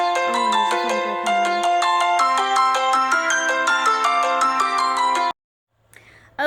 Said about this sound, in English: there's a phone call